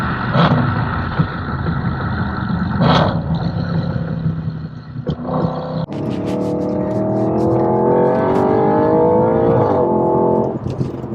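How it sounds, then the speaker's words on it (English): A loud, close 4.2-litre V8 engine of an Audi RS4 Avant revving hard, with a deep rumble, rising revs and a shift into a climbing, throaty roar. "That V8 rumble is music for the ears."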